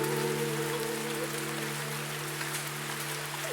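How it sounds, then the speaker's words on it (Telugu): Rain falling over a village, a dense even patter and hiss that runs throughout, with a steady low hum beneath it. "వర్షం కాస్త జోరందుకుంది."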